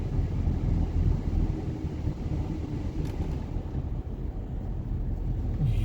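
Steady low rumble and hum of a VW Amarok's tyres and driveline vibration while cruising at about 50 km/h on flat road, continuous and fairly loud, with no talking.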